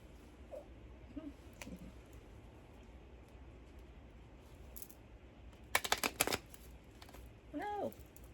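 Tarot cards are shuffled in a quiet ASMR setting: soft taps and rustles, then a brief burst of rapid riffling near the end, with a faint vocal murmur afterward.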